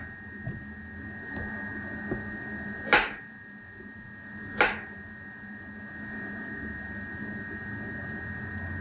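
Two sharp knife cuts through carrot ends on a cutting board, a couple of seconds apart, fairly faint over a steady kitchen appliance hum, with a few softer taps before them.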